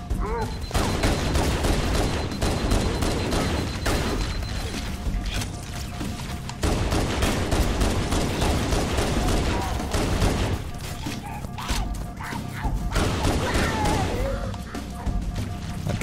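A pistol fires in the Halo: Combat Evolved video game, with bursts of shots and explosive hits packed in clusters across the stretch and in-game sounds mixed in, near and loud.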